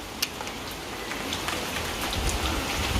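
Steady rain pours outdoors in a village in Sarai Alamgir tehsil, Gujrat district, a dense even hiss with scattered drops tapping on surfaces and no talk.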